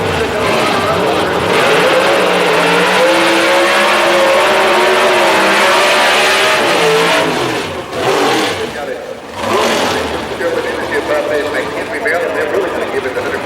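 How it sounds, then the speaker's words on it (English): Chevrolet Pro Stock drag race cars roar loudly at Houston Raceway Park, the engines revving and accelerating in a sustained blast that drops away and returns, with an announcer commentating over the noise. "Now we got the Team 1 Chevrolet of Jim Bernard and Mike Thomas over here on the right-hand side"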